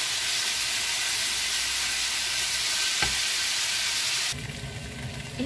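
A steady sizzle of okra curry (kara kuzhambu) with tamarind water frying in a hot pan, a utensil stirring and scraping through it, close up and loud.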